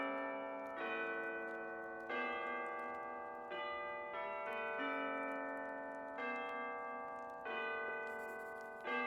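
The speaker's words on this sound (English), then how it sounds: "The soft sounds of the distant bells" Bells ringing at New Year in the video game Tiny Bookshop, soft and distant-sounding, a steady series of sustained, overlapping rings with fresh strikes every second or so.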